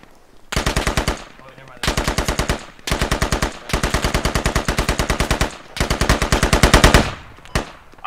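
Loud automatic gunfire from the military video game Squad rattles in several long, rapid bursts separated by short pauses, close and dominant throughout.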